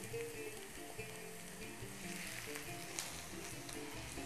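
Meat added to a pan of Algerian sweet meat dish sizzles steadily and close up, a continuous crackling fry with small pops and no voices.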